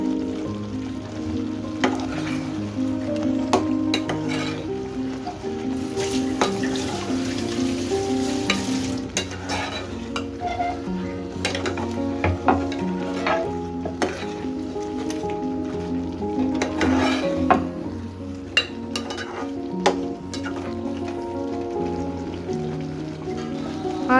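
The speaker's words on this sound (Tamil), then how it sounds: "இப்போ இந்த கிரேவியில் வறுத்து வச்சுருக்க சிக்கனை சேர்த்து நல்லா மிக்ஸ் பண்ணி விடுங்க." Fried chicken pieces stirred into a sizzling masala gravy in a pan for chicken masala, a steady frying hiss with scraping stirs and occasional pops, with background music playing throughout.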